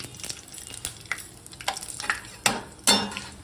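Dried red chilies and cashew nuts fry in hot oil for wedding-style upma, a soft crackling sizzle punctuated by several sharp stirring clicks and scrapes against the pan.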